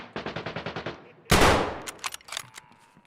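Rapid automatic gunfire from an Escape from Tarkov match: a steady burst of about nine evenly spaced shots, then one loud close blast, followed by scattered sharper shots and fading echoes.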